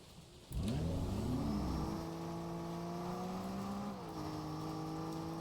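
A video game car's engine kicks in abruptly and revs up, then settles into a steady mid-pitched drone with a slight drop in pitch near the end, heard alone without speech.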